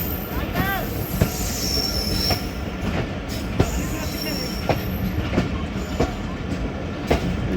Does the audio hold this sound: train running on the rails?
yes